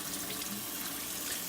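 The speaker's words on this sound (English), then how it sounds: "So we'll start with cold water and then move to warm water after a couple of minutes." Cold tap water runs steadily into a sink to rinse a black and white tie-dyed long sleeve shirt, a continuous close splashing hiss with no voices.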